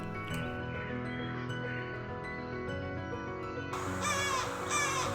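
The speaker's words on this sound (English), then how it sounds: "Now listen to the call of this chick and see how close to a currawong it sounds." A channel-billed cuckoo chick gives harsh, currawong-like calls, a few rough squawks rising clearly near the end over a steady bed of background hum and tones.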